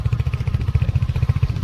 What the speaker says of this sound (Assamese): লগত আছে চিন্ময় চেঠে বাইক চলি আছে